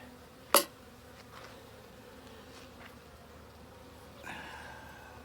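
Honey bees buzzing in an opened package beehive while wax building is underway, a soft continuous hum with one sharp close buzz or knock near the start and a faint swell near the end.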